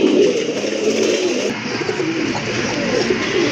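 A male black Indian Bombay pigeon coos in low, soft, repeated throaty phrases, close and clear against a quiet background, with no talking.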